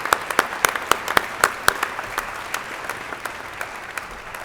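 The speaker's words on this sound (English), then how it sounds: "Let's have one more round of applause for our District Detectives of the Year." An audience at a police department awards ceremony applauds, with loud clapping in a large room that starts with a few sharp claps, then thins and fades to scattered claps.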